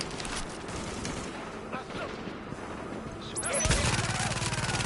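Gunfire in The Division video game, bursts of shots under someone talking in Swiss German, growing louder and denser toward the end.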